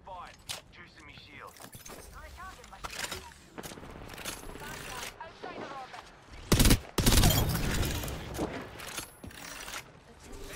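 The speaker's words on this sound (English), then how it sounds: "there's one behind me, shooting me in my back" Video game gunfire from an enemy shooting at the player's back, heard as sharp bursts and a loud cluster of shots near the middle, mixed with mechanical clatter and ongoing speech.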